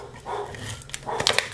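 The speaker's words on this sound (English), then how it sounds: "I apologize for the barking dog." A dog barks a few times nearby, short sharp yaps clustered together near the end of a brief moment, with no talking over it.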